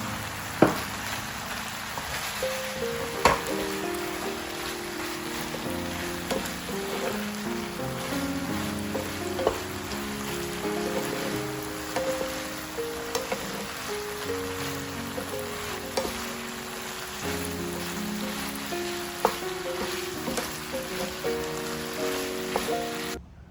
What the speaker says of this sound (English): Add leek green part to the pan.